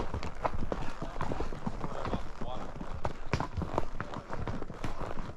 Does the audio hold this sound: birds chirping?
no